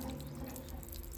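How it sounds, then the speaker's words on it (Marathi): Water running from a village tap at a temple fair, a steady close trickling and splashing that carries on without pause. "ते बघ आलं का पाणी"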